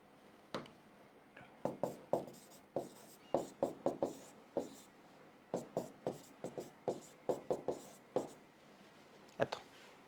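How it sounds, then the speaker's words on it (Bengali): A chemistry equation involving aluminium written by hand, quick clustered tapping and scratching strokes in uneven bursts with short pauses, close and quiet, no talking over it. "এটা লিখে দিচ্ছি"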